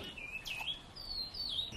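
A small songbird kept by a bird enthusiast chirps in thin, high whistled phrases, two or three short calls at moderate distance over a steady background hiss.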